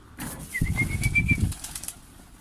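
Şanlıurfa flight pigeons take off from a new loft in a close burst of rapid wing flapping lasting about a second, with a thin whistling tone over it, then quiet.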